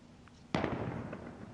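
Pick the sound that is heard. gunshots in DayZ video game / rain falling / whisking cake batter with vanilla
gunshots in DayZ video game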